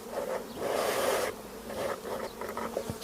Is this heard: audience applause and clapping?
no